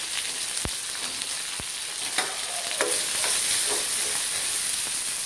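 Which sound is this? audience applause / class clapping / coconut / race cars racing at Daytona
coconut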